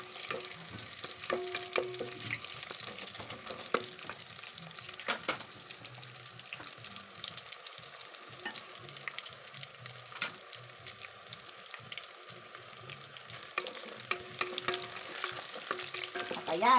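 Ingredients sautéing in a pan before sardines go in for Bisaya-style ginisang papaya: a steady, fairly quiet sizzle with intermittent stirring scrapes and clinks throughout, no talking.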